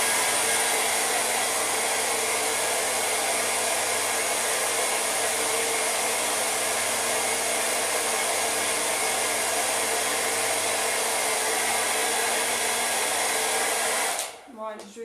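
A hair dryer blows steadily on a wet-technique watercolour painting, a loud constant whooshing hum running for about fourteen seconds before cutting off abruptly.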